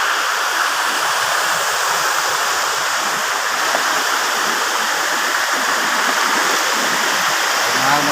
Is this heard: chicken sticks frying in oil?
no